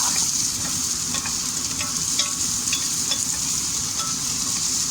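Onions fry and caramelize in a pan with a dense, steady sizzle and occasional stirring scrapes. The sound is close and continuous, with no talking.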